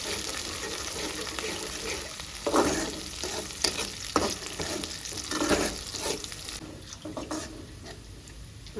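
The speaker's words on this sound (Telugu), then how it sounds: "ఇప్పుడు బాగా ఫ్రై అయినాయండి ఉల్లిగడ్డ అన్ని తాలింపు" Sliced onions and tempering spices sizzle steadily in a hot pan, with scraping stir strokes and a few louder clatters near the start, continuous and close throughout.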